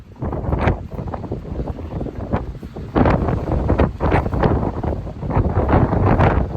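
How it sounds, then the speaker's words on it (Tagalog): Strong wind at a hatchery buffets the microphone in loud, rushing gusts that surge and ease repeatedly, with no voices. "Lakas ng hangin, grabe."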